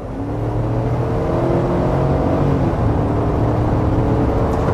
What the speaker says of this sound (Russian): Классический американский V8, во-первых, здорово звучит и обволакивает тебя своим фирменным голосом.